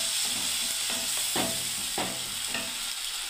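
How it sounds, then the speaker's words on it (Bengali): Tomato, onion and ginger paste frying in a pan sizzles steadily while a spoon scrapes and stirs through it in a few distinct strokes, close by with no talking. "নাড়তে থাকছি এবার আমি।"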